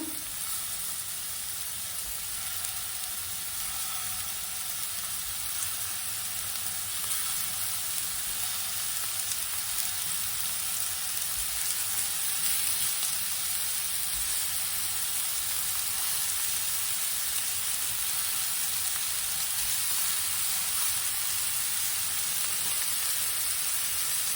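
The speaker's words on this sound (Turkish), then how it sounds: "Hafiften kızartıp ondan sonra saracağım patlıcanlarımı" Eggplants lightly frying in hot oil for islim kebab, a steady, close sizzle with a bright, continuous hiss that holds even and unbroken throughout.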